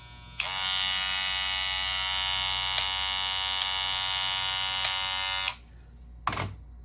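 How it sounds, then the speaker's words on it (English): A Gamma Shorty electric hair clipper switches on with a click and buzzes loudly and steadily for about five seconds, then clicks off; a brief thump follows. "This is the sound. Kind of loud."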